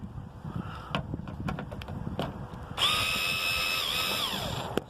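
A power drill whines steadily for about two seconds while backing Torx bolts out of a Range Rover Evoque rear door, following faint clicks and handling noises, close and fairly loud.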